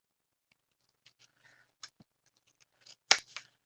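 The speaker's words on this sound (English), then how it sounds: "I cut these big leaves down a little bit" Scissors snip through big leaves for a craft project, giving a few sparse, crisp cuts spaced irregularly in an otherwise quiet room, with the loudest snips near the end.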